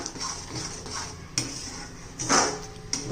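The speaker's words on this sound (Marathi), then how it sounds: "अजून 1-2 मिनिटं चांगला मसाला पण परतून घेऊ" Onion-garlic masala for paneer masala is sautéed in a pan, giving repeated scraping and knocking of a spoon against metal with a faint sizzle underneath, close up and with no voices.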